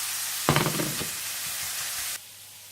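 Ingredients for Afghani pulao fry in a pan with a steady hiss and a brief burst of sizzling and stirring, close up, before the sound cuts off abruptly.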